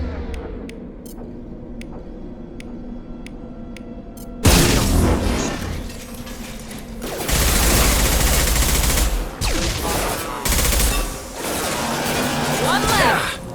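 Combat gunfire in Mass Effect 2 Legendary Edition: after a quieter stretch of sparse ticks, loud rapid weapon bursts and impacts break out and keep going in heavy volleys, mixed with game voices.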